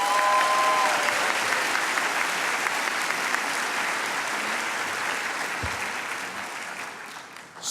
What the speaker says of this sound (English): One more round of applause for Jessica.